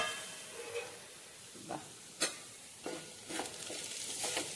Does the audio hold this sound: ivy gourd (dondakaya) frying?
yes